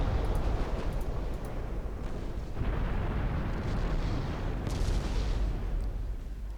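Warship flash fire explosion in the naval game Ultimate Admiral Dreadnoughts, a steady roar of booming naval gunfire and blasts that stays loud for several seconds without talk.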